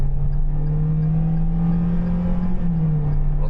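A Perodua Traz car accelerates on a test drive, its engine giving a steady droning hum with a slowly rising and falling pitch, heard from inside the cabin with continuous road noise and no talking.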